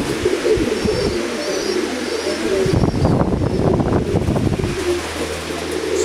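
Pigeons kept for sale cooing close by, repeated low throaty coos over a busy background with some rustling and faint higher chirps.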